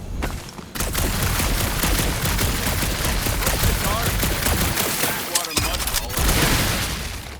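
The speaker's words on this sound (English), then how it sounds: "You do know that aimless shooting isn't gonna scare the monsters away, right?" Rapid, sustained gunfire in Marvel's Guardians of the Galaxy video game, a dense stream of shots filling almost the whole stretch with a brief gap near the start and voices faintly mixed underneath.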